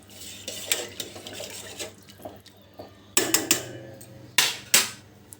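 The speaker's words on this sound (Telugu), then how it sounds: "సాల్ట్ వేసి ఇలా కలబెట్టుకోవాలి" Salt being stirred into water in a cooking pot, with a utensil knocking and scraping against the pot in irregular clanks that grow louder and sharper toward the end, with no speech.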